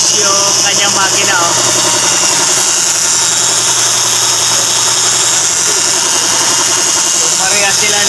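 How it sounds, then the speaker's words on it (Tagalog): A Subaru WRX 2.5 engine idles up close, a loud even mechanical drone with a light ticking texture and a steady whine, holding constant throughout. "So ito makina niya, papakita natin"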